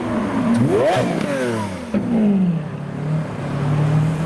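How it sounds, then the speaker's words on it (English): A blue Lamborghini Aventador SV at a car meet drives past, its V12 rising in a loud revving sweep, then easing off into a lower, fading engine drone with no talk. "I can hear the distinctive sound of, yes, another Lamborghini Aventador"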